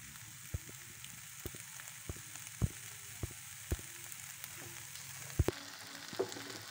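Raw peas fry in a pan for matar paneer, giving a soft, continuous sizzle broken by occasional sharp clicks and taps of stirring, close and fairly quiet, with no voices.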